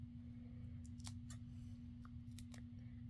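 Small snips of scissors cutting a little square of pop dot foam adhesive for a craft closure, a handful of quick, close, crisp cuts over a steady low hum.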